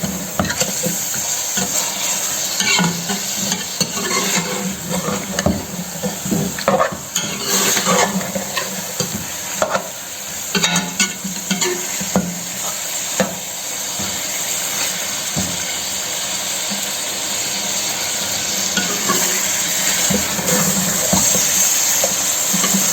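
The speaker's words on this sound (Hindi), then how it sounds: "अब इसको हमने अच्छी तरह फ्राई करना है।" Chicken qorma frying in a pot while being stirred, a continuous sizzle and hiss broken by frequent spoon scrapes and knocks against the pot, close and steady for over twenty seconds without talk.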